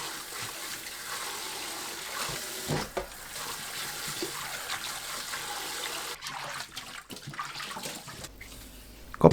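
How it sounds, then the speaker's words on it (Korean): Blanched butterbur stalks rinsed in cold water, a steady close splashing and running-water wash that continues throughout with a few louder sloshes and no voices. "4분 후 찬물에 헹굽니다."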